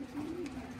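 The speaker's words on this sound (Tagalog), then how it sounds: "So, ibig sabihin, meron tayo rito dagit or merong isang ibon dito" A pigeon or other bird in a pigeon loft gives a soft, low cooing note lasting under a second, faint against a steady background hum.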